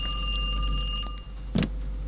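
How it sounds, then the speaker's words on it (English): A telephone rings inside the video game Kiosk, a short harmonic electronic ring under steady background hum, followed by a brief louder burst near the end. "Oh, we got a phone call."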